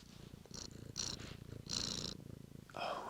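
A cat purrs close and soft in a continuous rumbling purr, punctuated by brief, higher nasal bursts, with no talk over it.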